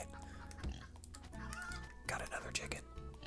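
Chickens cluck in the video game Turnip Boy Commits Tax Evasion, with several short clucks and game effects layered over background music, alongside soft, low voice murmuring.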